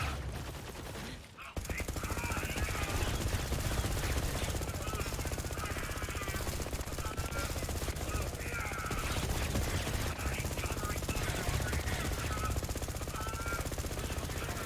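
The Magnificent legendary pistol in Borderlands 3 fires in a dense, unbroken rapid-fire burst that runs loud and steady for over ten seconds after a brief quiet start.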